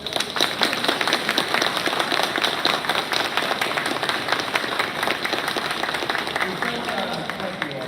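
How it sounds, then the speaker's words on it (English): A crowd claps steadily in sustained applause, dense and continuous, with a few voices mixed in underneath. "stand up so this team can give you all a round of applause."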